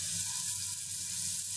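Tilapia fish sizzles and fries in a pan, later joined by elenchha greens, a steady hissing crackle of hot oil heard alone at close range.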